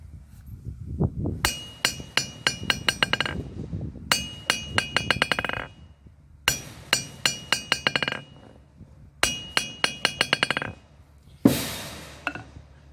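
Hammer striking a used, somewhat beat-up steel anvil, ringing clinks in quick bouncing runs of rebound taps, several bursts close and loud with short gaps between them.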